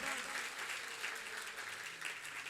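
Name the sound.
audience clapping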